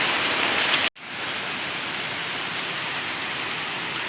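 Heavy rain pours down in a steady, dense hiss that fills the whole clip, with a brief cut near the start before the downpour resumes at full strength.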